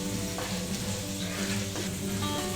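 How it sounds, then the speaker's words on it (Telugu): Close, continuous sizzling and crackling comes from dried red chillies dry-roasting in a pan, with faint scraping of stirring throughout. "ఎండుమిర్చి కూడా నేను డ్రై రోస్టే చేస్తున్నానండి."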